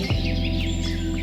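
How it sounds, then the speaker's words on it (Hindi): A koel, an Asian cuckoo, calls in a short, clear, close burst of tonal notes over a steady background drone. "ये है कोयल। कोयल को इंग्लिश में कुकू कहते हैं।"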